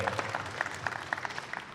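A small audience at a conference event claps, a thin, fairly quiet patter of hands with distinct individual claps audible.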